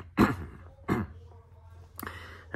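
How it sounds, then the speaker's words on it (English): A few sharp throat-clearing bursts, close and distinct, separated by short quiet gaps. "I had to clear my throat there"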